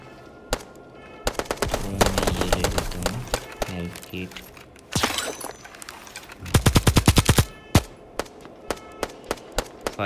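Gunfire in the mobile shooter Bullet Echo rings out as loud bursts of automatic fire and scattered single shots, some near and some farther off, with a person talking in between.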